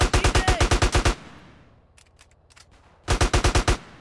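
An AK-47 fires in GTA San Andreas in two loud rapid bursts, each a tight run of evenly spaced shots, split by a short lull filled with faint scattered noises.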